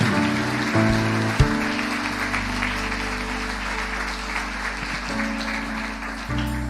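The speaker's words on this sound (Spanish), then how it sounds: "Dele un aplauso al Señor" A church congregation applauding during a service, steady crowd clapping that runs the full length over a held organ or keyboard tone in the background.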